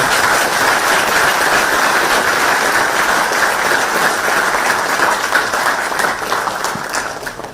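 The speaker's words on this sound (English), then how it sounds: "this needs a big, big round of applause" A university audience in Texas gives a big sustained round of applause during a student interaction with Rahul Gandhi, a dense, loud, even roar of clapping that tapers slightly at the end.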